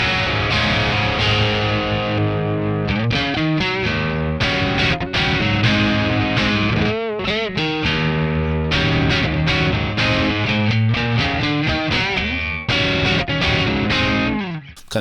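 A distorted electric guitar plays chords and riffs through a warm, slightly soft 6V6 tube amp simulation on a Joyo Cab Box, loud and continuous with brief pauses between phrases.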